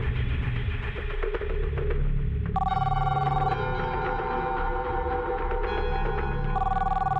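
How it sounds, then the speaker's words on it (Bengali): A telephone rings in bursts of tonal electronic trills against steady low background noise, the rings coming in repeated phrases, with no one talking over them. "জানি কে ফোন করেছে"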